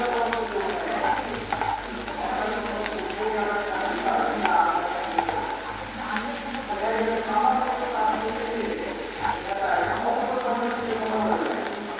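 An egg sizzles and crackles in hot oil, a continuous frying hiss with occasional stirring sounds and a voice speaking faintly underneath.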